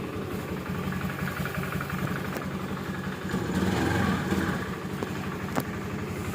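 A motorcycle engine idles steadily at a moderate level in a workshop, with a low continuous rumble and no voices.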